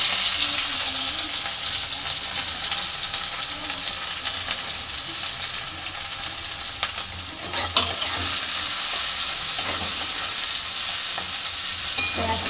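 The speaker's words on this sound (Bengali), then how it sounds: "মাছটা ভাজা হয়ে গেছে, এবার দিয়ে দিচ্ছি তেলের মধ্যে পেঁয়াজ।" Onions sizzle as they fry in hot oil in a pan after fish has been fried for a Bengali fish curry, with a steady crackling hiss throughout and a few sharp pops and stirring scrapes near the end.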